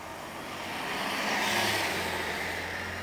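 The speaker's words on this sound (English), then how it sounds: "Compton bus behind you." A bus passes behind on a street in Compton, a broad road rumble swelling to a peak midway and easing off again, moderately near, with no talk over it.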